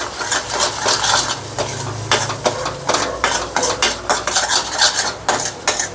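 A spoon scrapes and clinks against a pan while vegetable curry with garam masala and spices is stirred, a steady run of metallic scrapes over a soft sizzle.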